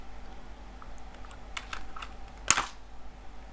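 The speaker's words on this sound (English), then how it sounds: "Now when it comes to membrane keyboards" Fingers tap out a quick run of soft keystrokes on a membrane computer keyboard, ending in one sharper clack, close and clear with no talking.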